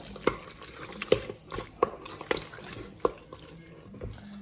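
Pork chops and seasonings for a stewed pork dish are worked together by hand in a bowl, making close, wet squelches and soft slaps in an uneven rhythm with brief pauses between squeezes.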